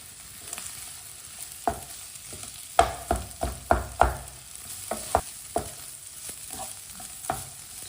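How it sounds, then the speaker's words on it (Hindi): Boiled chicken pieces being stirred into a potato tikki mixture with a spoon, a series of sharp scraping knocks against the bowl in an uneven rhythm, louder in the middle, with a faint background hum. "चिकन डालेंगे, अच्छी तरह मिक्स कर लेंगे।"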